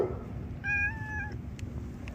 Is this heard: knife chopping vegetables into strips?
no